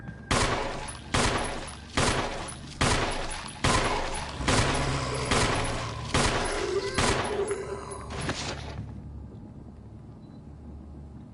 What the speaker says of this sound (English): we better start shooting as soon as we get up